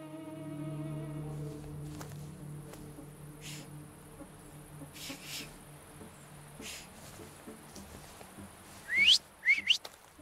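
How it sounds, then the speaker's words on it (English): Short bright rising whistles from The Thaumaturge game come in quick bursts near the end, after a long stretch of soft, buzzing, insect-like ambience and low tones. "So, have you mastered whistling?"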